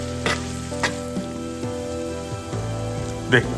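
Chopped onions, red chillies and curry leaves with salt sauté in a hot pan, a steady soft sizzle broken by a few louder stirring scrapes and clicks.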